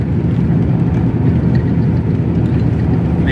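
A Chevrolet Caprice with a swapped LS V8 engine, hot after a long run, idles steadily with a deep, continuous low rumble and no voices.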